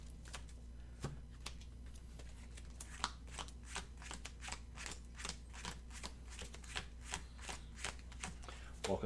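Playing cards are shuffled for a Magic: The Gathering cube draft, a run of close, crisp riffling bursts repeating every half second or so at a quiet level.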